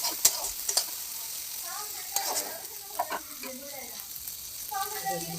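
Chopped onion frying in oil in a home kitchen for a Bengali fish-oil dish, a steady broadband sizzle with a few sharp utensil clicks and taps near the start, no talking over it.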